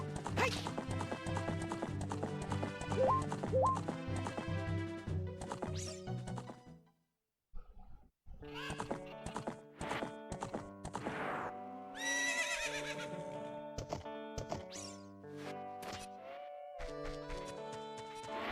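Horse neighing and whinnying with hoofbeats from a Zelda video game at Lon Lon Ranch, heard over busy game music, with a short silent break midway before the music and horse sounds return.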